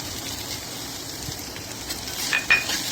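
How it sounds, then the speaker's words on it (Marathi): Okra (bhindi) being stirred with salt in a frying pan, a steady soft sizzle with faint scraping and light utensil clinks, a couple of slightly louder clicks near the end. "मीठ घालून सम मिक्स करचें"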